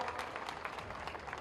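Audience clapping at a Hindi-language political rally, a dense steady wash of many hands applauding throughout, moderately distant with crowd noise.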